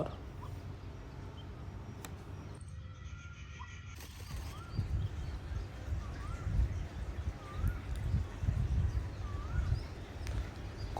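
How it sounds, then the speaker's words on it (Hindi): An Asian koel calls in the background during a peacock courtship dance outdoors. Faint, repeated rising calls come every second or so over a low, rumbling ambient wash. "कोयल की आवाज़ पीछे से तेज होती जा रही है"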